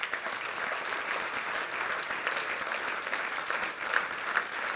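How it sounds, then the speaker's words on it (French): A large audience at a municipal New Year's reception applauds local associations, a dense, even roar of clapping that holds steady throughout with a few sharper peaks near the end. "je vous demande cette fois de tous les applaudir parce qu'ils sont formidables"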